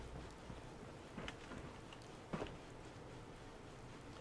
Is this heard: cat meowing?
no